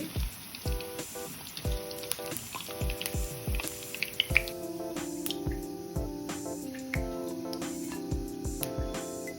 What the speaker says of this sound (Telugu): వడలు వేగిపోయాయి, తీసేసుకోవాలి.